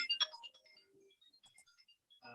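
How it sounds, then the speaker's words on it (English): Short electronic chirps and tones from a mobile phone ringing during a seminar, faint and quick, scattered bursts with quiet gaps and a brief low sound at the end. "Sorry, that was my phone."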